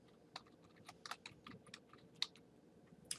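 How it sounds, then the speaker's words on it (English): Someone types "food safety" into a database search box on a computer keyboard, producing about a dozen quiet, irregular key clicks with no voices. "Let's go back to the search box and type in food safety."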